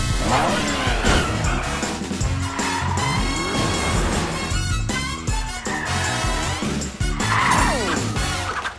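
A cartoon cat-themed superhero car drives off in a children's animated show, its tires skidding and squealing. Revving engine sounds and lively background music fill the scene, loud and busy throughout.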